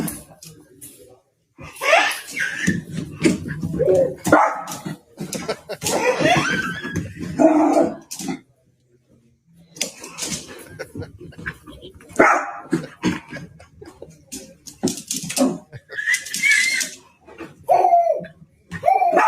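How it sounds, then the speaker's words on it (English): A little dog barks and yips in short bursts while playing chase with a baby indoors, lively and close, with laughter and people talking between the barks. "Baby and dog playing chase."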